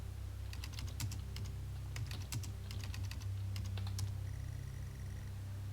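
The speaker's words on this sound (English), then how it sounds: "I do like the clunky keyboard sounds this makes though" Clunky keys clatter on a retro computer keyboard in the game Stories Untold, quick irregular clusters of clicks typed over a steady low electronic hum, with no voices.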